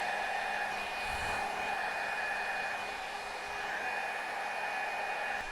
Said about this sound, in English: I go from under and blow dry the midsection of my hair shaft out